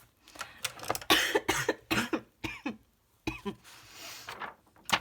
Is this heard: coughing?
yes